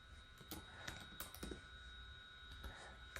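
Entries typed into a spreadsheet on a computer keyboard, short bursts of soft key clicks over a steady background hum, quiet and close, with no voice.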